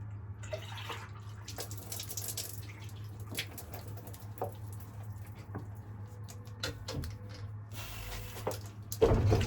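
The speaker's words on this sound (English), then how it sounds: "I can hear the water starting to come forward." Water trickles and gurgles through a lodge water system's pipes as it starts up, with scattered clicks and drips over a low steady hum, fairly quiet and close.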